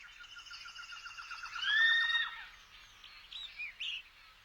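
A bird in the 1999 Hunter X Hunter anime gives a rapid, trilling chirp that swells into a brief louder call, then fades into a few scattered faint tweets.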